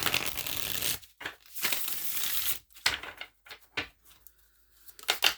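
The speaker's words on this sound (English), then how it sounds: "I'm going to shuffle these." Tarot cards are shuffled by hand up close in crisp riffling bursts, several fast rattling runs broken by short pauses and a few lighter taps.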